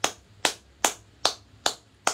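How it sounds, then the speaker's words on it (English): Slow, evenly spaced sharp claps, six in a row with short decays, sound at a gathering in Ghana, fairly close and with no talk over them. "Clap for Paul Kagame."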